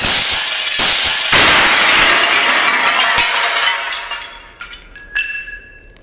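A stack of plates crashes down and shatters loudly, close by, with a long wash of breaking ceramic followed by scattered clinks and a few ringing pieces settling; no talk.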